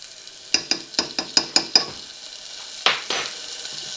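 Minced garlic dropped into softened onions in a hot pan, giving a run of six quick stirring scrapes and clinks over a steady sizzle, then a brief louder hiss near the end.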